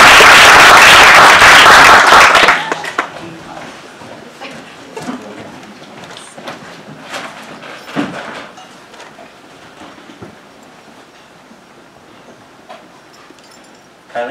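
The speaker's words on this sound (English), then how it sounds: "please give a round of applause" Loud, dense applause from a high school audience for the first couple of seconds, then it cuts away to quieter room noise with scattered soft sounds.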